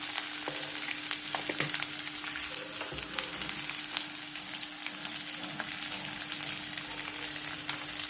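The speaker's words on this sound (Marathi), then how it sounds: "आता कांदा चांगला भाजून द्यायचा" Chopped onion frying in a pan, giving a continuous, fairly loud crackling sizzle with small pops, steady from start to finish with no talking.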